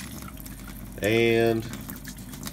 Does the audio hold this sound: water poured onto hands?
yes